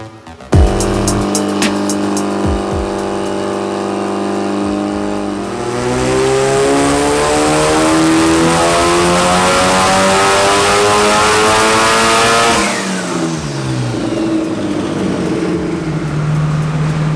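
A tuned Mitsubishi Evo 8 making over 570 wheel horsepower on a dyno, its engine idling, then roaring through a loud sustained full-throttle rev that climbs steadily in pitch before dropping back to a rumbling idle.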